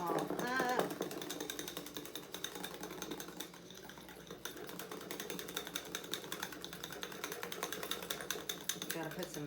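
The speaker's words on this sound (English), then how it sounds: "Whisk that all up." A wire whisk beats a cheesecake dip by hand in a bowl, giving a fast, steady scraping and tapping rattle that runs throughout at moderate volume.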